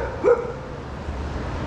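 A dog gives one short, close bark outdoors near a Mega Image shop, a single quick yelp over a steady low background hum.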